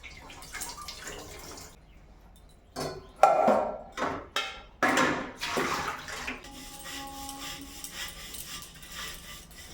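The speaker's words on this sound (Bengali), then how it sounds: "আর আমি ওইদিকে বাসন টাসনগুলো ধুয়ে নেবো" Dishes being washed under running water, with scattered clinks and splashes and a steady tap flow that grows louder in bursts midway, recorded close in a home kitchen with no talking.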